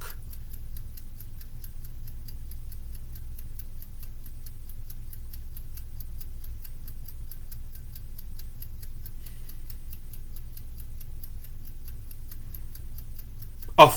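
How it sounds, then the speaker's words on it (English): A clock ticks steadily and quietly in a calm room, an even, regular rhythm running throughout over a low background hum, ending with a small knock. "we can and are listening to the ticking of the clock."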